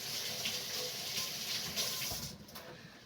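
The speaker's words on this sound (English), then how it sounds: "we gotta wash my hands" Running water from a kitchen sink tap as hands are washed during crockpot meal prep, a steady close splashing flow that tapers off toward the end.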